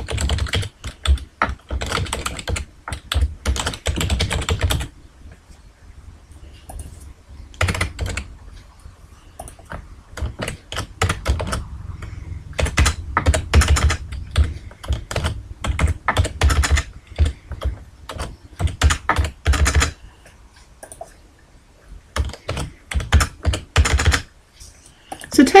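Steady bursts of computer keyboard typing, close and crisp, pause briefly near the start and then continue in quick irregular runs of keystrokes while entering text in Microsoft Publisher 2010.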